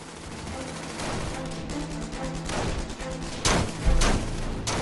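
Gunfire in a World War II battle: scattered rifle and machine-gun shots over a rumbling battlefield background, with a few louder, sharper cracks and thumps standing out near the end.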